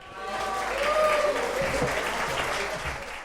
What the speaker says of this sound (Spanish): Denle un aplauso al Mauri.